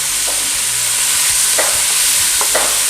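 Chopped onion hits a hot skillet for a keto jambalaya, giving a loud, steady close-up sizzle with brief scraping stirs on top.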